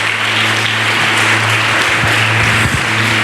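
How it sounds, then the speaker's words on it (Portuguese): A church congregation applauds loudly and continuously, a dense, close, unbroken roar of clapping with a steady low hum underneath. "Você pode aplaudir bem forte ao Pai."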